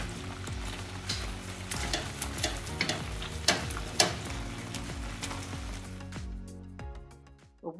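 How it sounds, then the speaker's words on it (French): Tomatoes cooking in a pan are crushed and stirred, a continuous sizzle with scraping utensil strokes that stop near the end, leaving a short quiet tail. "On peut encore écraser les tomates pour activer la cuisson."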